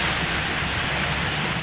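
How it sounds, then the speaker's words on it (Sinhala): Hail falls steadily in the Bandarawela and Ella area of Sri Lanka, a dense, even hiss of ice striking surfaces with no pauses and no voices. "බණ්ඩාරවෙල ඇල්ල ප්‍රදේශයට අද පස්සරුවේ අයිස් වැස්සක් පතිත වී තිබෙනවා."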